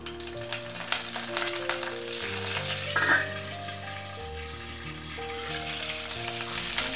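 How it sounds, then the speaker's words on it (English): Curry leaves spit and crackle in hot coconut oil with fenugreek seeds, a continuous sizzle with sharp pops over a sustained musical tone. "Fry the curry leaves."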